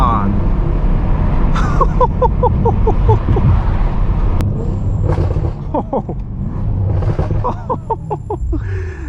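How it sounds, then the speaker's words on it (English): A nearly 1,000-horsepower BMW M8 Competition downshifts at speed, its exhaust giving a deep, steady roar with quick rising blips and crackles. Excited voices exclaim over it from inside the car. "The downshift sound wild"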